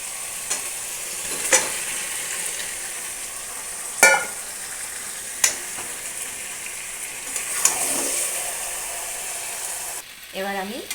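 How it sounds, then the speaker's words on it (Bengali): Marinated chicken fries and sizzles steadily in a pan, with sharp spatula scrapes and clanks as it is stirred, and a brief voice near the end. "এবার আমি চিকেনগুলো দিয়ে ভালো করে কষাতে থাকবো।"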